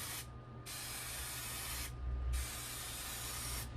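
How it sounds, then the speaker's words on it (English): An aerosol can of spray glue sprays in two long hissing bursts separated by a short pause. The spray is close and fairly loud, with no talking. "Making sure that I get a good cover on my spray glue."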